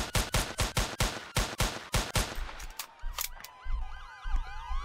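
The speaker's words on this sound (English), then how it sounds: "But he left as soon as I shot him." Rapid gunfire in the Roblox ER:LC police game, a burst of about a dozen sharp evenly spaced shots, then a wailing emergency siren and low rumbles take over, loud and close.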